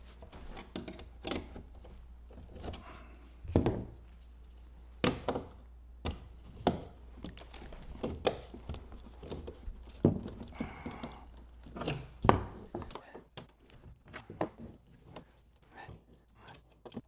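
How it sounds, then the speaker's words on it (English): Metal clips around the lid of an equipment case are being pried loose and bent straight, giving scattered sharp clicks and knocks at irregular intervals, close up against a quiet background with no talk. "Now I'm just going to continue and work myself around the perimeter of the lid, repeating the same process until I have all the clips undone."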